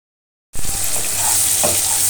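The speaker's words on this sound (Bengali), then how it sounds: "চিংড়ি মাছ রান্না করবো, চিংড়ি মাছগুলো দিয়ে দিচ্ছি। মাছগুলো ভালোভাবে কষাই নেব" Tiger prawns hit a hot pan with a sudden loud sizzle after a moment of silence, then keep up a steady, close hiss of frying, cooked for a prawn and pumpkin curry.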